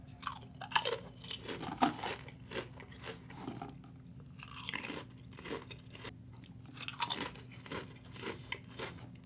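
Close, crisp crunching and chewing of Flamin' Hot Pringles chips, repeated bites and chews spread across several seconds, with no talking.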